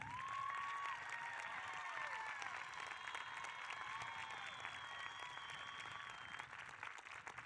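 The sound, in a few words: graduation audience applause for faculty and staff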